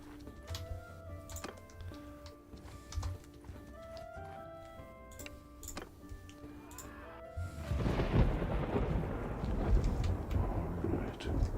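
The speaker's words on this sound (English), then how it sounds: "Sounds like there is a thunderstorm going." Thunder rolls during a thunderstorm in the video game Mount & Blade II: Bannerlord. Quiet game sounds with hoofbeats and tones give way to a loud, rumbling wash of thunder and storm noise that fills the second half.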